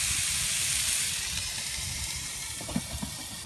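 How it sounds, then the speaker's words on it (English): Food sizzles on a Cobb portable grill, a steady bright hiss with a few small pops near the end, close and fairly quiet, with no talking. "Got a nice sizzle, which I like to hear."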